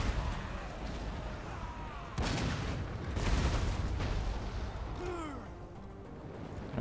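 Artillery and gunfire in the fantasy strategy game Total War: Warhammer II during a modded dwarf battle, with booming cannon blasts and heavy rumbling barrages rising and falling over several seconds, along with faint battlefield cries.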